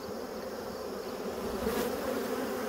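Dense, steady buzzing of many bees packed inside a beehive box, a continuous close drone with a slight swell near the middle.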